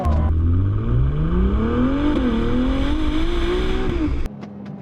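A Ferrari 296 GTB V6 engine accelerates hard on a public road, its pitch climbing steadily for about four seconds. It stays loud and close throughout, then cuts off sharply near the end, leaving quieter road noise.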